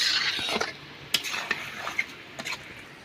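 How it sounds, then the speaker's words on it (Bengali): Mutton curry with green chillies stirred in a pot with a metal spoon, giving a handful of sharp clinks and scrapes over a soft background hiss, with no talking. "কাঁচা লঙ্কা দেওয়ার পরে এবার ভালো করে নেড়ে নিয়ে আমি চাপা দিয়ে দিচ্ছি"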